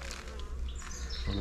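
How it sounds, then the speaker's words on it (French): Bees buzz softly close by at a hive during a honey harvest, a thin hum with a few birds chirping faintly in the background. "il y a quelques abeilles, mais c'est normal"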